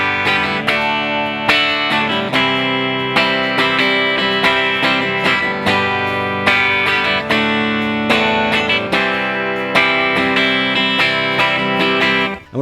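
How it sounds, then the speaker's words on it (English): Distorted electric guitar chords played in a down, down, down, up picking pattern, loud and evenly rhythmic, ringing chords repeating alone for the whole stretch. "So the first one is a common down, down, down, up stroke pick pattern."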